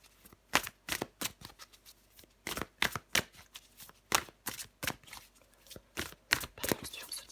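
A deck of tarot cards shuffled by hand, giving repeated crisp riffling bursts and flicks in an uneven rhythm, close and clear with no talking.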